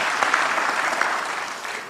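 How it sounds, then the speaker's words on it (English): An audience at a church general assembly claps in steady, moderate applause that holds for two seconds, a soft wash of many hands with no voices over it. "Let's clap for them as they take their seats."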